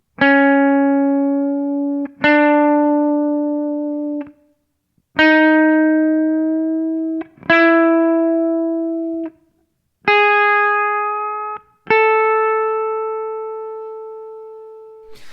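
Six sustained electric guitar notes, each plucked and then bent slightly between a minor and a major third in a blues-curl style, with clean ringing tones and short pauses between them.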